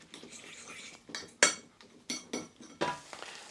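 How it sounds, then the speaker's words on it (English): A fork mixes egg with pepper and Parmesan in a bowl, giving a few quick, close metallic clinks and scrapes against the dish in an irregular rhythm, with no talk. "give it a quick mix using your fork"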